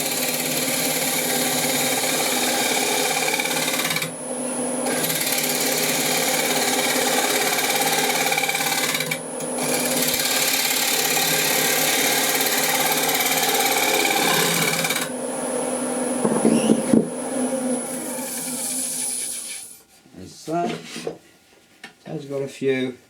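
A wood lathe turns a cracked workpiece at about 10.5 RPM, giving a steady, loud mechanical whir with a high whine, broken by brief dips and scraping tool contact before it winds down into scattered clatter.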